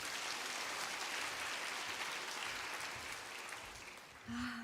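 Applause from a church audience at a testimony service fills the room steadily, dense and sustained, then thins toward the end as a brief tone appears.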